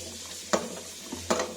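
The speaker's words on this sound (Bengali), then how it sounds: "এটাকে মশলাগুলো ভাজতে দিই" Spices frying in a pan for a mixed vegetable and fish dish with tomato and mustard, heard as a low steady sizzle broken by two short scraping stirs of a utensil.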